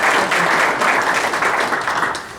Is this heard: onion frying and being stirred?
no